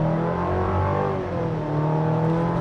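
A 2026 Chevy Colorado Trail Boss pickup accelerating hard from inside the cab, its turbocharged engine droning loud and steady with rising harmonic tones and a brief dip mid-pull.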